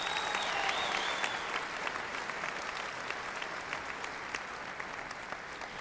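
A graduation audience applauding fills the space with dense, sustained clapping from a large crowd, even and continuous, slowly easing slightly in loudness.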